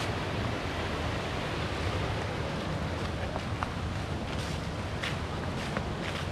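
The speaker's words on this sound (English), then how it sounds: "Sounds like a good fair amount of water moving right through there down that trough." Creek water rushes steadily through a trough, a constant broadband roar with no pauses, heard alone.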